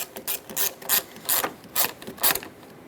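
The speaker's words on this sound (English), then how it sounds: "Take that 8mm socket, once this is fully bottomed out, snug up the terminal." An 8mm socket ratchet snugs down the battery terminal nut on a Ford E-350, giving rapid close clicking in short repeated strokes.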